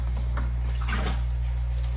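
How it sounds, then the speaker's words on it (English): A steady stream of tap water runs into a bucket in a kitchen sink, a continuous faint splashing rush with a low hum underneath, unbroken for the whole stretch. "So the bucket is filling up with water in the sink"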